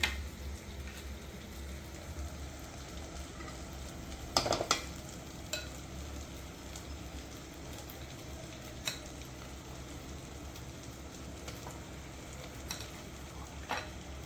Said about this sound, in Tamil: நம்ம மேரினேட் பண்ணி வச்சுருக்க சிக்கன் எடுத்து இதில் ஆட் பண்ணணும்